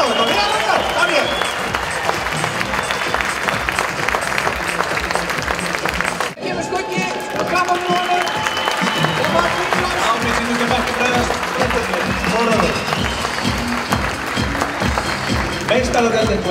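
A crowd claps steadily at an Icelandic stallion show, the dense applause running through the whole stretch with only a brief dip, while an announcer talks over it.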